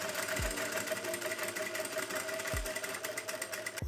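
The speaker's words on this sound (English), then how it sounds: "sew along the shoulder and side seams with a straight stitch 5 millimeters from the edge" A sewing machine running straight stitch seams, a steady fast mechanical hum and rapid needle rhythm, close and continuous with brief thumps, no talk.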